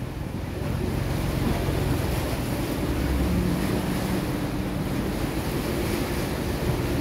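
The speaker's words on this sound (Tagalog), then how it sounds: "Tignan nyo, oh, umaalon talaga siya ng ang lakas." Strong waves surge against a public pier at Sai Kung, Hong Kong, during rain, a steady roar of surf with wind buffeting the microphone, loud and continuous throughout with no talk.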